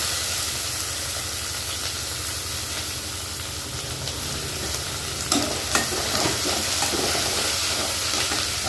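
Curry leaves dropped into hot oil with onions for Kumbakonam kadappa, a loud steady sizzle and hiss, with a few crackling bursts and stirring clinks partway through, close to the pan.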